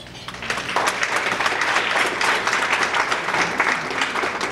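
Audience applause for Congressman Debbie Dingell at a city address, a full, steady round of clapping from a large room, loud and continuous throughout with no voices on top.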